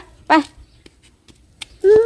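A dog gives two sharp, loud yelping barks with a whimpering edge, close up, separated by quiet snuffles and small clicks.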